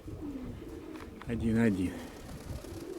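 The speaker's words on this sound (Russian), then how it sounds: "сивый с золотым кольцом и мой голубенок рябоголый" Pigeons cooing outdoors on a windy day, one clear, rolling coo rising out of steady wind noise while a person talks nearby.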